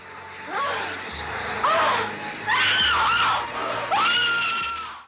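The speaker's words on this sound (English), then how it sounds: "Before a gross scene, the movie throws up a screeching warning and a twitching gloved hand" A shrill screeching warning alarm from an 1980s shot-on-video horror film rises and falls in several loud, wavering bursts, like a synthetic scream, over a low background drone.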